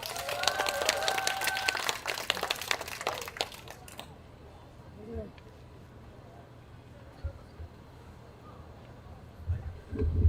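Applause from a street rally crowd at a construction workers' union cultural event in a plaza by a train station, welcoming the union's singing group; dense clapping for about four seconds, then dying away to quiet outdoor ambience with scattered movement.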